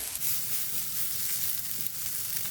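Leeks and onions sizzle steadily in a hot pan as they are stirred, with a dense, even crackle and no talking.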